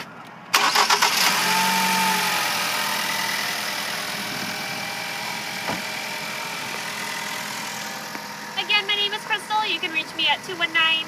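A 2012 Ford Focus engine cranks and catches with a sharp start, then settles into a steady mid-pitched idle, close up under the open hood, with a few rhythmic chirps near the end.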